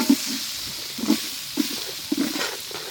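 Onions and green chillies sautéing in hot oil for a large batch of mutton soup, a soft hiss under a few dull stirring knocks that recur about every half second, quiet and close.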